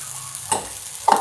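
Shabudana thalipeeth roasts crisp in a pan, with a quiet frying hiss and two short scraping stirs close by, no voices.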